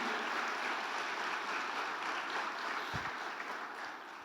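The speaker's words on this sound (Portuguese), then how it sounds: "Aplauda o Senhor por isso." A church congregation applauds, a steady wash of many hands clapping that stays even and fairly distant, with one low thump near the end.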